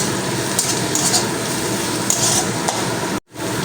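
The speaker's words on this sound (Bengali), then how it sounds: "পেঁয়াজগুলো দিয়ে একটু নাড়াচাড়া করে নেবো পেঁয়াজগুলো বেশি লাল লাল করে ভাজবো না" Chopped onions and green chilies fry in a pan while being stirred, producing a loud, close, continuous sizzle with repeated spatula scrapes, and a brief drop to silence near the end.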